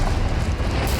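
A Confringo fire spell detonates in the Hogwarts Legacy video game, a loud, dense, roaring blast rumble that fills the whole second without letting up.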